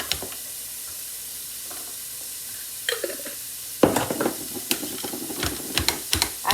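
Food sautéing in a little olive oil in a pan, a soft steady sizzle that turns louder and crackly partway through, with scattered stirring scrapes and clinks close by.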